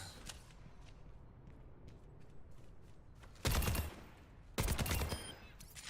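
Rifle bursts in an Overwatch match, two loud rattling volleys about a second apart over quiet game ambience, with faint clicks and steps between.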